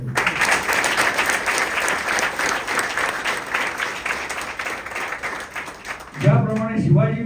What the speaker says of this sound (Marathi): त्याच्याकरता टाळ्या पुन्हा एकदा वाजवूया आपण.